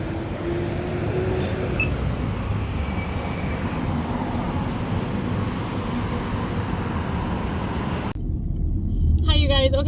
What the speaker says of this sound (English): the traffic is insane